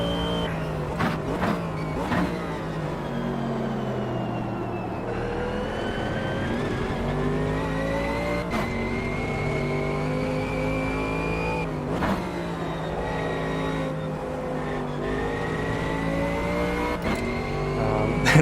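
Camaro supercars racing at Kyalami in Automobilista 2, with a loud, continuous engine drone rising and falling through repeated gear shifts and revs, plus brief tyre noise.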